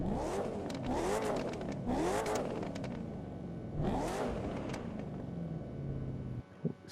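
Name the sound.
video game car exhaust backfires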